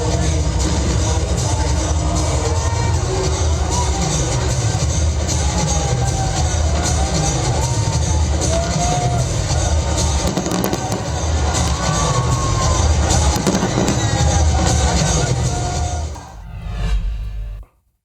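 A fireworks display fills the sky over a cheering crowd, a dense, loud, continuous roar of voices and crackling bursts that drops away abruptly at the end.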